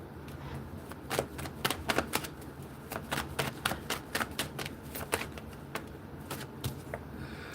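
Tarot cards being drawn and shuffled from a deck, quick papery flicks and taps in irregular bursts, close but quiet, with faint talk in the background.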